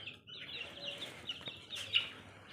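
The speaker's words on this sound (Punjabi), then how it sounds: "ਆਹ ਦੇਖੋ ਆਪਣੇ ਸਾਰੇ ਵੱਡੇ ਚੂਚੇ ਆਏ ਸਾਰੇ" Young chickens on a farm cluck and peep close by, a scatter of short calls over a quiet background with no talking.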